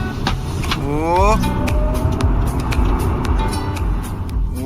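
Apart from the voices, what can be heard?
Tesla electric car accelerating, tire noise on asphalt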